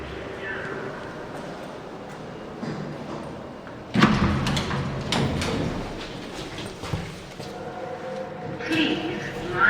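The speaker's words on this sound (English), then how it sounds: "Please mind the doors. Doors closing." Lift doors at Gravesend Station slide shut with a soft clunk partway through, heard close amid the lift's hum and a recorded announcement.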